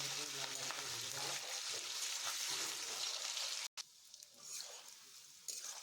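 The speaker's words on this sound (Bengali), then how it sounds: "এবার আমরা কড়াইতে পনিরগুলো দিয়ে দেবো। পনিরগুলো দিয়ে সুন্দর করে লাল লাল করে ভেজে দেবো।" Paneer cubes fry in hot oil in a wok, giving a steady, dense sizzle that cuts out briefly and then returns a little quieter.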